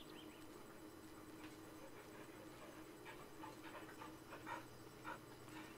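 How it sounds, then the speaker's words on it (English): A dog pants in the woods of the Blair Witch video game, soft quick breaths under a steady low ambient hiss, faint and fairly close. "You are such a weirdly textured dog."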